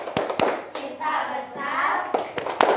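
Children play a rhythmic hand-clapping game during a classroom warm-up: sharp claps in short patterned bursts, then a stretch of overlapping chatter, with more claps closing it out, fairly close and lively.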